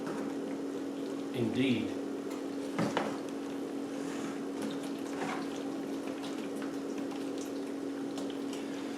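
Electric pump running steadily while draining fuel from a tank into a 20-litre jerry can, a constant close hum with faint liquid flow, and brief talk over it.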